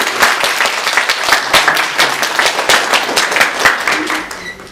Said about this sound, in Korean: 정말로 박수로 축하해 주겠습니다